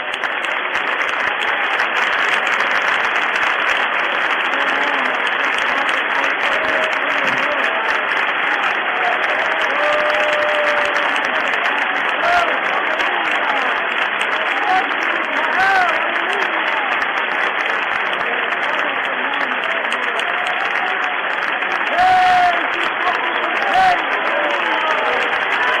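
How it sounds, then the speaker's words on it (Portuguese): Sustained applause from a large church congregation fills the room, steady and dense for a long stretch, with occasional voices and cheers rising out of it. "um lindo e demorado aplauso do teu povo"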